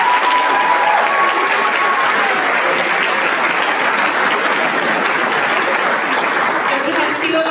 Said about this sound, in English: Let's give a round of applause for our donors.